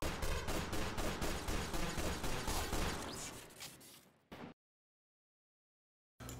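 Rapid repeated gunfire from a pistol or shotgun in Source Filmmaker's Team Fortress 2, loud and steady shot after shot for about four seconds, then cutting to silence before a brief burst returns at the end.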